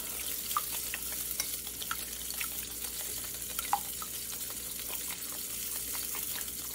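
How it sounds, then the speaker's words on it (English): Breakfast meat frying in a pan at medium heat on an electric stove, a steady crackling sizzle with scattered small pops, moderately close with no talking. "And I have my breakfast meat cooking back there, and that's what you hear fizzling."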